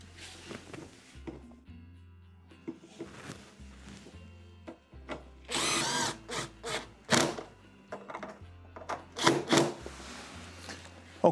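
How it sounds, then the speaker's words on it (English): Screws being driven back into a Frigidaire refrigerator during a solenoid valve repair, heard as short bursts of a small power driver whirring between quiet handling noises and clicks; no talking. "we have our 2/4-inch screws, which we removed earlier, which we're gonna go ahead and reinstall"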